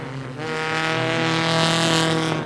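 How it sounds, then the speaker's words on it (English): A race car engine drones loudly at a steady high pitch during a short-track racing series race, rising slightly in intensity, with no speech. "sounds like Chris Phelps' car doesn't want to go"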